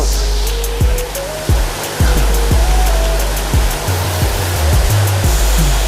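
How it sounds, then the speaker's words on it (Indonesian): Heavy rain pours down outside, a steady broadband wash, with scattered low thumps and drips beneath it and no talking. "Itu hujannya deras sekali di luar."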